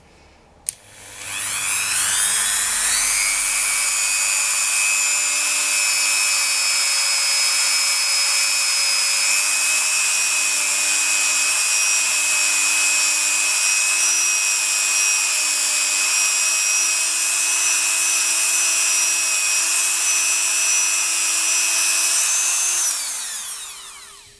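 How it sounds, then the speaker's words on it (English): A Dremel rotary tool buffs polymer clay, its high-pitched motor whine rising quickly to full speed and holding a loud, steady tone for about twenty seconds before cutting off. "I'm using a Dremel, and this does make a bit of noise"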